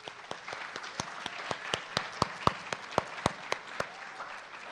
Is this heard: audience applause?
yes